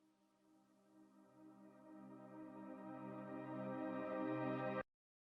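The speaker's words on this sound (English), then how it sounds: "a reverse piano and sounds like this." A reversed piano sample in a progressive house breakdown swells gradually from soft to loud, its notes blooming backward before cutting off abruptly into silence.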